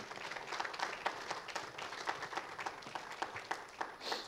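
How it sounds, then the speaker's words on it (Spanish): A church congregation at a Sunday night service applauds, with a soft, distant wash of scattered claps that holds steadily for a few seconds. "Denle un fuerte aplauso al Señor."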